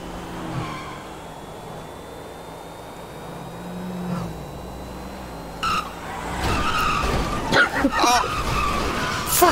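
Cars drag racing at the docks in GTA V, with engines revving and tires squealing and skidding loudly in the second half, building to bursts of screeching rubber near the end.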